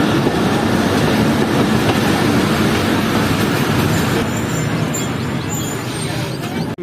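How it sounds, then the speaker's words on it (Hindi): Fareed Express train at Milsi railway station in Pakistan during its stop: a loud, steady rumble and clatter of rail and station noise with voices murmuring underneath, easing off slightly near the end. "5 मिनट का स्टॉप है फरीद एक्सप्रेस का मिल्सी रेलवे स्टेशन पर, क्योंकि ये बड़े रेलवे स्टेशन में से है।"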